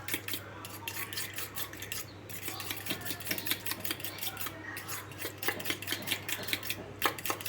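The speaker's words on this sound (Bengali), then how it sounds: "আর যে মাছের ডিমটা আছে একসঙ্গে সব কিছু ভালোভাবে এইভাবে ফেটিয়ে নেব" Fish roe mixture gets beaten in a bowl: rapid, rhythmic scraping clicks of the utensil against the bowl, close and continuous, with no voices.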